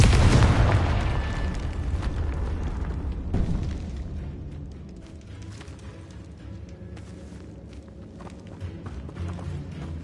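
A Confringo spell explodes in the Hogwarts Legacy video game with a loud, deep blast at the start, then a long rumbling decay and crackle that fades into a steady low ambience.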